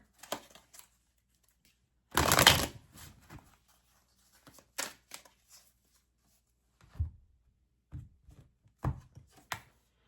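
Oracle cards shuffled in short, scattered bursts: one longer riffle near the start, then soft taps and flicks spaced through otherwise quiet surroundings, close and faint, with no talking.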